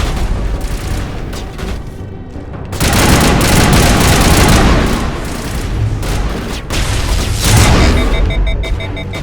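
Loud bursts of gunfire in the sci-fi shooter Mass Effect, heavy rapid volleys with booming impacts, sustained for several seconds, breaking off briefly, then resuming in a second long burst, with no talk over it.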